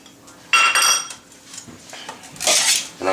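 Metal utensils clink and scrape against a bowl while a salad is tossed with light olive oil and balsamic dressing, in a few uneven bursts of close clatter with no talk.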